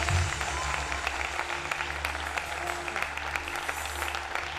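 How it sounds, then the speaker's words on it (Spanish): A room full of people at a church service claps steadily and loudly, a dense, sustained round of applause. "denle un aplauso al Señor"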